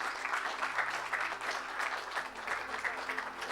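Sustained congregational applause fills a church service, a dense continuous clatter of many hands with no pauses, loud and close throughout.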